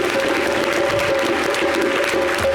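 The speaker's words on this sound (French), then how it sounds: "Est-ce que vous pouvez applaudir pour celui qui," A live audience at a summer TV show event applauds a drummer, a loud, dense, continuous burst of clapping and crowd noise with a steady hum beneath it.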